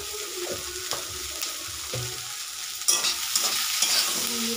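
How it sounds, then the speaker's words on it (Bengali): Vegetables sizzle and crackle in a hot pan with occasional stirring scrapes, a busier burst of frying toward the end. "এবারে এটাকে আরও ভালোভাবে ভাজবো"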